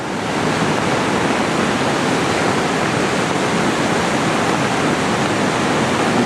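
A river in spate, strong enough to sweep away a large fallen log, rushes with a loud, steady, broadband roar that never lets up, with no voices over it.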